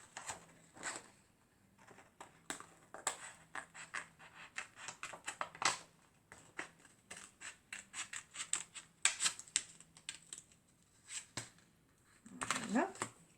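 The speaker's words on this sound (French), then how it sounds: "Donc, je coupe au ciseau." Scissors snip through card paper while a 3D greeting card is made, a series of short crisp cuts with brief pauses, close and clear, with soft handling rustles between.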